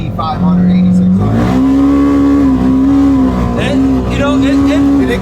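A Polaris Xpedition UTV engine revs hard on a trail, a loud close whine climbing and holding at high RPM with brief dips between pulls, while people talk over it.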